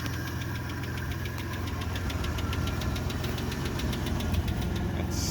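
A 1998 Dodge Grand Caravan with a failing transmission runs steadily, its engine giving a constant low rumble with a fast ticking knock layered on top, close and unbroken throughout.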